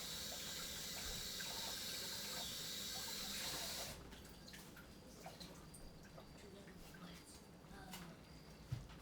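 A kitchen tap runs in a steady hissing stream as a pumpkin is washed for Jamaican chicken foot soup, then the flow stops partway through, leaving quieter handling sounds and a few faint drips.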